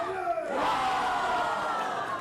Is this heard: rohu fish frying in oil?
no